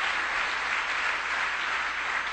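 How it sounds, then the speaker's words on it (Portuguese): A church congregation applauds during a sermon, a steady, dense wash of clapping from many hands that holds at an even level throughout, with no voices standing out. "Se você quer, aplauda o Senhor por isso"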